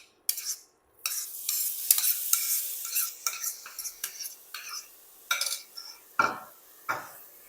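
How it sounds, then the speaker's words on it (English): Apple cubes tumble into melted sugar in a pan for a compote, giving a sharp sizzle followed by repeated scraping and clinking of a spoon stirring against the pan, close and unaccompanied. "let us add the apple cubes to this"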